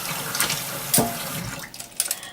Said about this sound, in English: Just let it run through. And you'll see the water coming out here.